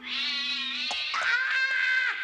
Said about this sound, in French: Ah, un chat rouge!